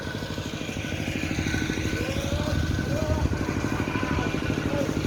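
A mid-pitched tractor engine runs steadily outside with a rapid chugging clatter, close and continuous, with faint talk mixed in.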